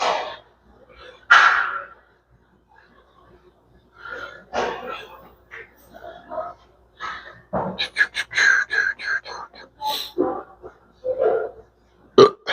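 A lifter burps before starting an upper-body weightlifting set, with several throaty, uneven bursts close to the microphone, mixed with breathing and brief vocal noises.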